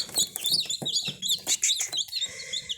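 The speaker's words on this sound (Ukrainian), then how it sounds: "Почали в нас виводитись курчатка з куплених яєць від пасхальних курочок." Rapid, high-pitched peeping and chirping from several newly hatched chicks, close and continuous, with no talking.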